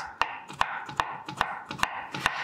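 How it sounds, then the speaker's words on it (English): A knife chops salad vegetables into cubes on a cutting board in a home kitchen, with steady, irregularly spaced sharp knocks, about nine in quick succession, close and clear. "cut cut these and then chop them into cubes."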